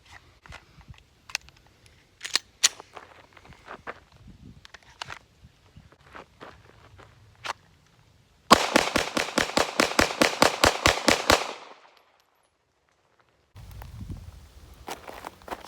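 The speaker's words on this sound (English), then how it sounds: "So I'm going to shoot these 15 rounds, and I'm going to shoot them just about as fast as I can." A Glock 19 pistol fires fifteen rounds in rapid, evenly spaced succession at close range, a sharp burst of loud cracks that stops abruptly, preceded by scattered clicks and handling noises and followed by silence and then faint rustling.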